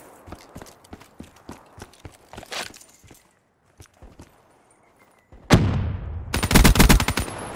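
Rapid bursts of automatic gunfire from Call of Duty Black Ops 3 multiplayer: scattered sharp shots early, then a loud, dense machine-gun volley near the end, with no talking.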